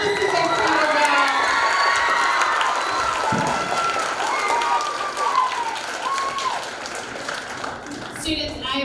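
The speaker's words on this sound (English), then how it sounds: "Let's give them another round of applause." An audience at a school opening-night production of Willy Wonka claps, cheers and shouts in a loud sustained roar, with children's excited voices rising over the applause throughout.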